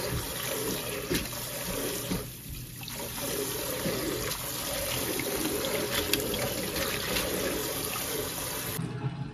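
Fresh-picked dill being rinsed under a running kitchen tap, a steady, fairly loud hiss and splash of water that stays constant throughout with no talking.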